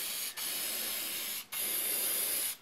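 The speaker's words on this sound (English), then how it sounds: "I'm going to spray the edge" An aerosol spray can is sprayed at close range along the edge of a sign, giving three sustained hissing bursts separated by brief pauses.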